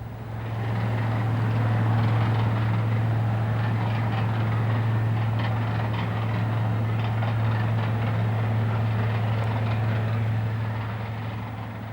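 Class 46 diesel locomotive 46045, in rail blue livery and heading for Swanwick at the Midland Railway Centre, gives off a steady, heavy low drone that swells in and holds at a constant loud level.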